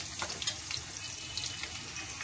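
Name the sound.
cumin seeds sizzling in hot oil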